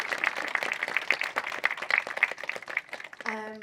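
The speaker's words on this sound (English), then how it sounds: "Can I get a big round of applause for our excellent speakers?" An audience at an accessible cinema conference session claps for the panel speakers, a fairly quiet scattering of hands that runs for a few seconds before a voice starts talking at the very end.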